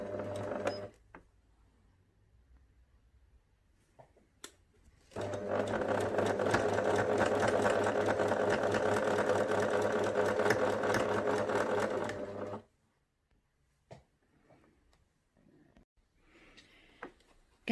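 Sewing machine stitching a curved seam on a fabric memory bear: a brief run and quiet handling sounds, then about seven seconds of steady, loud whirring stitches that stop abruptly, followed by faint rustles.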